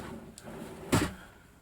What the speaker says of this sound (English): Top, you got a pull-out drawer here,